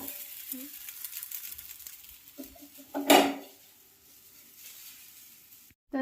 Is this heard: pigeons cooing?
no